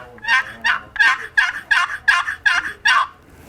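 Wooden turkey box call worked by hand to imitate turkey yelps, eight sharp, raspy, evenly spaced notes sounding close and loud with no talking.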